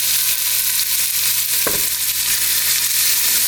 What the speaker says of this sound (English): Because the leeks have been frozen, of course there'll be a little more sizzling as the water boils off